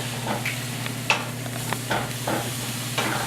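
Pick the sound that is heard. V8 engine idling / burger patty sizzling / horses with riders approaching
burger patty sizzling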